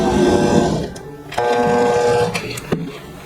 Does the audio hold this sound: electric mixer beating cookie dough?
yes